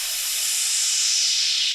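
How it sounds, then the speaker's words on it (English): A loud, steady burst of bright white noise hisses for under two seconds, then cuts off abruptly. "Some white noise."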